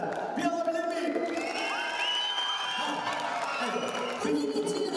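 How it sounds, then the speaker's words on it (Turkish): A crowd at a mass circumcision festival cheering, whooping and whistling loudly, a dense roar of voices with high shouts rising over it, close and sustained. "Şöyle bir kuvvetli bir alkış alabilir miyim sizden?"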